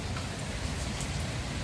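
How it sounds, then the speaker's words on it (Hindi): Heavy rain pouring down during a windy storm, a dense, even hiss of falling water that runs steadily throughout. "तेज बारिश हो रही है"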